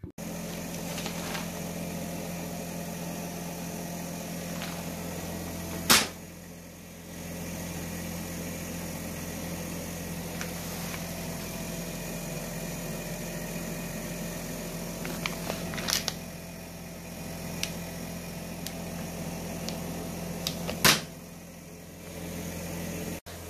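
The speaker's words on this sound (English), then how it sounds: "Sorry if you can hear the heater running in the background" A space heater hums steadily in a garage workshop during a Honda CB400T motorcycle build, a constant low drone with a few sharp clicks and knocks over it.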